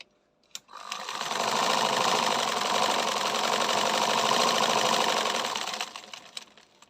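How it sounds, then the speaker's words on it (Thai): A sewing machine stitches children's sportswear fabric in one steady, fast whirring run of about five seconds, starting and stopping cleanly, loud and close with no speech. "ต่อด้วยผ้ากีฬาเด็ก ผ้ากีฬาเด็กนี่เย็บยากนะ ครับ เย็บยากมาก"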